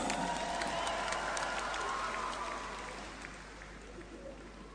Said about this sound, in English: A round of applause for Miss Kiribati.